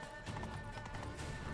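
A galloping horse in The Witcher 3 video game, quiet rhythmic hoofbeats repeating steadily under faint game ambience.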